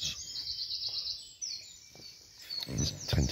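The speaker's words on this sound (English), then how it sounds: "Birds are singing away." Birds sing in the early morning at an outdoor wild camp, with high, bright chirps and trills over quiet ambience, joined near the end by closer, louder rustling and handling noises.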